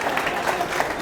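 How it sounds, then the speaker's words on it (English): An audience at a faculty and staff meeting gives a brief burst of applause, a dense even patter of many hands clapping from across a room. "somebody clap."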